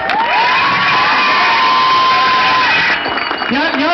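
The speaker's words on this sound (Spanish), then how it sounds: "queremos darle un fuerte aplauso a todos ustedes" An audience applauds and cheers with whoops and shouts, a loud crowd roar carrying a sustained voice over it, then the noise settles near the end.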